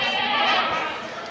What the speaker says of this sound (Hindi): ये बकरा देखो क्या सही है